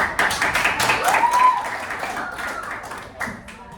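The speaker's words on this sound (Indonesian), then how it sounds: "Tepuk tangan dulu untuk" A group claps in quick, uneven bursts, the applause of a small crowd of seventh-grade children in a classroom, with voices chattering underneath.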